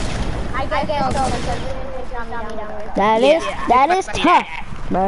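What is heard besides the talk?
gunfire from the video game Fortnite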